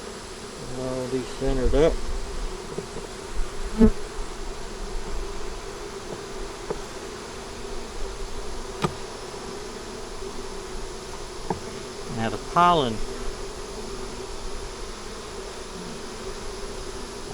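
Honey bees buzz steadily around an open hive during an inspection, a close, constant drone with a few louder swells as bees pass near, while someone talks over it.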